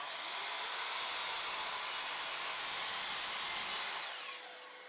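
Plywood pieces cut with a power saw, a steady loud whining buzz running nearly five seconds without a break and easing off at the end, with no talking.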